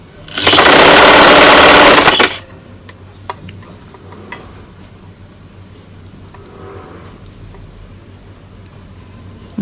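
Sewing machine stitching a T-shirt dress in one loud, steady burst of about two seconds, followed by quiet room noise with a few faint clicks and handling sounds.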